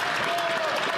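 Members of parliament stand and clap in the chamber, a brief, dense burst of applause with a faint voice beneath it.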